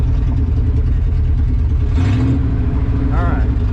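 Engine of a 1970 Ford F250 pickup running as it drives in first gear, a steady mid-pitched drone throughout with a brief rise in revs, loud and close under spoken voices.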